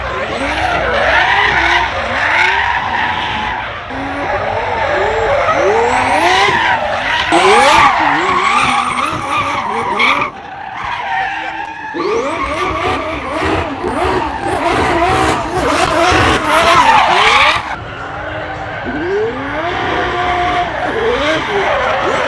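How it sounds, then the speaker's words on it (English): A Ferrari F12 drifting at the SEMA show, its tires squealing loudly and continuously while the engine revs rise and fall in repeated sweeps, close and sustained with a brief lull midway. "we just saw Damon do some drifting in the F12"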